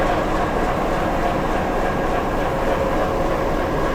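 Steady clickety-clack and rumble come from the Rangpur Express as it runs along the tracks, loud and unbroken from start to finish, with no voices.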